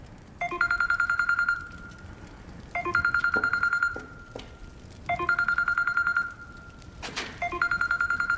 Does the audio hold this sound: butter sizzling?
no